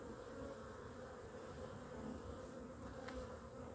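Honeybees buzzing around their hives, a dense, steady drone of many wings, fairly quiet and continuous throughout.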